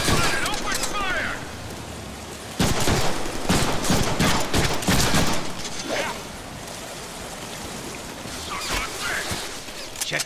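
Rapid, dense gunfire erupts in a Deadpool action video game, sustained volleys crackling nearly throughout with louder bursts in the middle, mixed with game effects and occasional voices.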